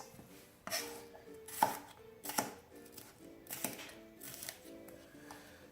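A knife chops vegetables on a cutting board in a series of close, crisp knocks, some single and some in quick bursts, with short pauses between.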